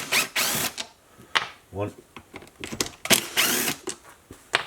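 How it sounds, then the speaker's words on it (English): A T27 driver works the bolts on the bottom of a Stihl 025 chainsaw, giving short bursts of ratcheting and clicking mechanism noise close up, interspersed with someone talking. "So then we'll take our T27, and there's 2 bolts on the bottom here."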